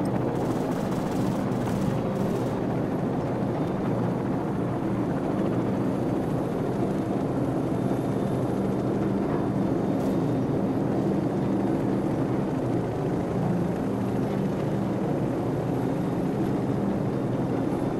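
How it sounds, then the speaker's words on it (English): A continuous droning rotor roar of helicopters in a Call of Duty mod fills the clip, loud and steady with a faint rhythmic chop, no voices. "Friendly helicopters entering the area."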